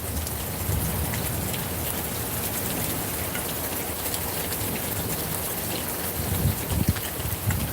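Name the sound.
rain falling outdoors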